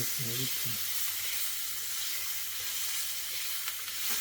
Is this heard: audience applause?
no